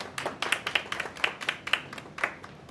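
An audience claps for a lyricist at a Marathi song launch, with a run of sharp, irregular handclaps of moderate loudness and no voices over them.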